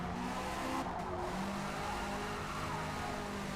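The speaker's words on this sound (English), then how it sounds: "I'm drifting this classic formula car." A classic formula car drifts in Forza Motorsport 2023, its engine droning steadily with tire squeal running continuously underneath at moderate, even loudness and no voices.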